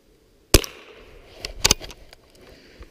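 A .22 rifle fires short rounds outdoors in a snowstorm, with one sharp crack followed about a second later by a second loud report, each trailing off quickly.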